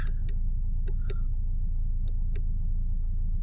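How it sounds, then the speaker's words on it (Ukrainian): Renault Megane engine just started and idling, a steady low rumble close by with a few faint sharp clicks and ticks over it. "Тільки що завів Renault Megane"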